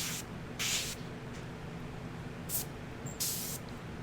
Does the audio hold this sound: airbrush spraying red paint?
yes